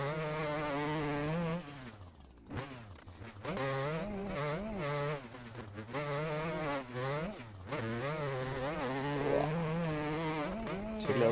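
A two-stroke dirt bike engine on a motocross track in a video game, whining and buzzing continuously with rising and falling revs as the rider accelerates, shifts and lets off over bumps, loud and close throughout.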